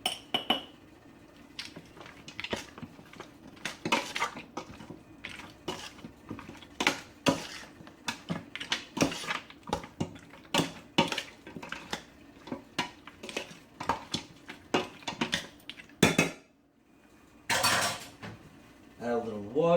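Goat stew seasoning with hot pepper is mixed in a bowl, giving a long run of irregular clinks and scrapes of utensil against dish, close by and steady, with faint speech at times.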